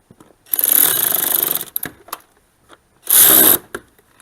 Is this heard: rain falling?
no